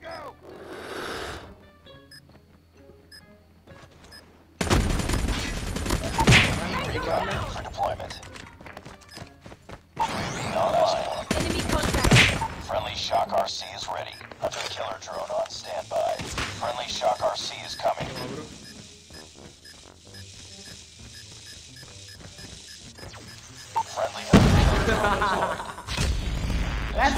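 Call of Duty Mobile match with a frag grenade going off in a sudden heavy boom amid sporadic gunfire and in-game effects, while players chat excitedly over the action.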